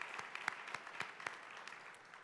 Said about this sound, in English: we owe them a big round of applause and thanks